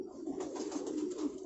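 A pigeon coos close by in a short, soft, throaty burst of rolling notes, heard alone against a quiet background.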